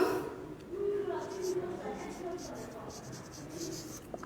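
Writing during a math lesson, with soft scratchy strokes of a pen or marker in short bursts, quiet and close, alongside a teacher's voice.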